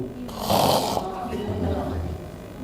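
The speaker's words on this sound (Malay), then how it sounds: "Ada orang duduk sambil ngorok bu" Rough, rumbling snoring breaths from a person sitting up, a loud harsh snore early on followed by lower, droning snorting under faint background noise.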